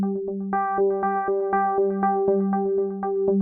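FM synthesizer bass sound playing a quick run of short plucked notes, each with a bright transient attack over a steady low tone, clean and alone.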